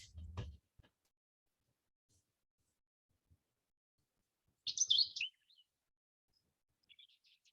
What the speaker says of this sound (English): the first that I just showed you, or played, was an actual bird song, and the second was the reconstruction